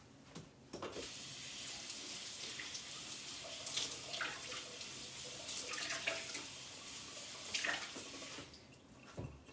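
Strawberries are rinsed under a running kitchen sink tap: a continuous hiss of water with splashes and small clatters as the berries are moved around, close by and fairly quiet.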